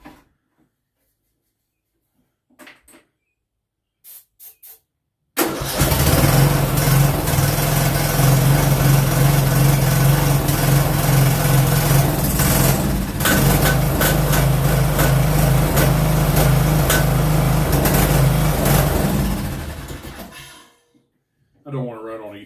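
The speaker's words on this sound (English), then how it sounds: "when I sprayed it with ether, would the engine accelerate like it's supposed to" A small engine that had lost spark catches after a shot of ether in the intake and roars into a loud, steady run for about fifteen seconds, preceded by a few short clicks and sputters and ending in a cutoff.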